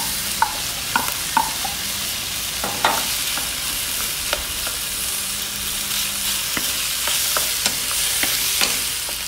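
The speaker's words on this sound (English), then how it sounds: "Mix the rice slowly like this" Rice for Chinese fried rice is stir-fried in a hot wok, a loud steady sizzle broken by sharp spatula scrapes and clacks every second or so, with no talking.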